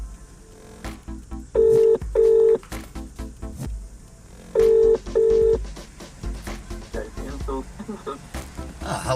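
Two pairs of touch-tone dialing beeps from a hands-free Android Auto car phone call sound clearly, each a short steady tone, separated by a pause, with low background noise and faint voice-like sounds between them.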